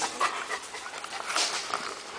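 A large old farm dog pants in quick, airy bursts that repeat steadily at close range, with no talk over the breathing.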